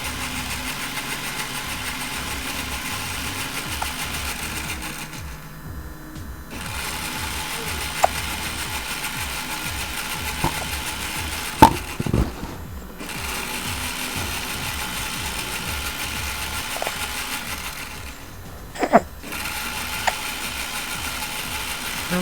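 Scanfrost SFKAB-405 blender running on pulse at speed 2, a steady whirring motor in repeated bursts, each run broken by brief pauses and occasional clicks.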